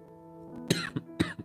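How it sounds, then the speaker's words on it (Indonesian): Two short, harsh coughs about half a second apart, close to the listener, over a faint steady hum. "Aduh jadi batuk bentar ya"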